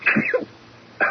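A single sneeze in an old-time radio drama, a sharp nasal burst followed a moment later by a short voiced tail, close and clear with no one speaking over it.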